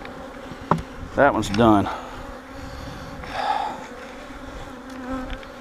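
Honeybees buzz around an open hive during beekeeping, a dense, close droning hum that continues steadily while someone speaks briefly.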